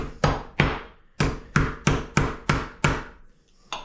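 Beef being pounded for jerky, a run of eight or so sharp, close, loud thumps in a fairly even rhythm with a short gap midway, then one more hit at the end, with no talking.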